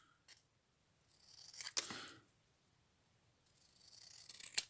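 Scissors snipping through card for a monochrome orange ATC, a few soft, close cutting strokes with one sharper snip in the middle and another cut at the end, otherwise quiet.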